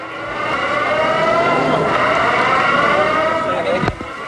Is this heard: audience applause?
no